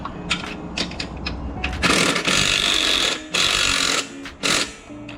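A pneumatic rattle gun with an 18 mm socket tightens trailer coupling bolts in loud, close bursts of buzzing hammering. A spanner and 19 mm socket hold the nut, and clicks and handling noises fall between the bursts.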